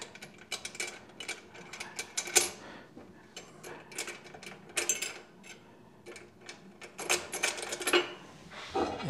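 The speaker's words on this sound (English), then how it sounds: "you can use the included wrench or socket wrench is much easier" A socket wrench ratchets 10 mm nuts onto a Dr Heater DR-368 infrared garage heater, with close, crisp bursts of rapid clicking separated by brief pauses.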